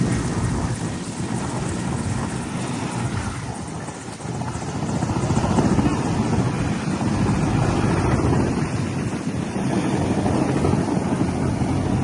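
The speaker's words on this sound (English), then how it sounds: "This Mexican Navy helicopter suffered a sudden engine failure right during takeoff in Sinaloa." A Mexican Navy helicopter in Sinaloa suffers a sudden engine failure during takeoff: a loud, continuous rotor and engine roar with heavy wind buffeting that dips briefly and then surges again, with no speech.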